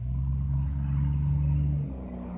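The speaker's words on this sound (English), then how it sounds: "There, they just drove by really fast." A vehicle speeds past a roadside camp, a loud low rumble that swells and holds, then fades quickly as it moves away.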